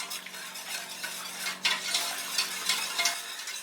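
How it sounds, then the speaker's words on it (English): A whisk scrapes and swishes steadily through a thickening sauce for a beef and pork pasta bake, with soft metallic taps against the pan, close and continuous with no talking. "Get that stirred in nicely, and then switch to a whisk as it starts to thicken"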